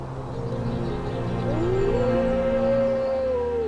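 A wolf howl rises and holds steady in a predator-filled valley of Ladakh's cold desert. It is a single drawn-out call, moderately loud, over a low steady rumble, with no talking.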